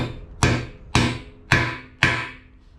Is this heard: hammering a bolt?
yes